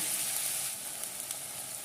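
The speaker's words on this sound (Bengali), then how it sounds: "পকোড়াগুলোকে আস্তে আস্তে ভেজে নেবো" Flattened potato pakoras deep-frying in oil over low to medium flame, a steady, even sizzle and bubbling heard close up without any talking.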